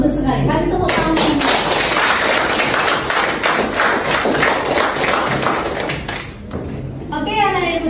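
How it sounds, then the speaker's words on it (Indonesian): Schoolchildren in a classroom clap for a classmate, a loud dense round of hand claps with some thumps and a voice mixed in, fading briefly near the end as talk resumes. "Kasih tepuk tangan."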